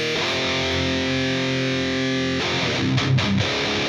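An electric guitar runs through a distortion plugin and a noise gate, giving a thick, saturated sustained chord that changes partway through, loud and steady with no talk.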